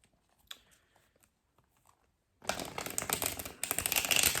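Tarot cards being shuffled, a dense crisp riffling burst in the second half, loud and close, after a quiet stretch with a few faint taps.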